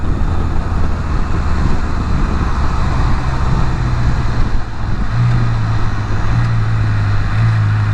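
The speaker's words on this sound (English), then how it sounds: "You got stopped cars." Traffic halted on a San Antonio street, heard from a motorcycle, makes a loud, steady low rumble of idling engines mixed with wind noise.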